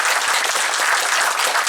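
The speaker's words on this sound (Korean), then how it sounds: "두 분께 여러분 다시 한번 큰 박수 부탁드리겠습니다" An audience at a talk on sabermetrics through a professional baseball player's eyes applauds steadily, a dense, even wash of clapping from a full room with no voices over it.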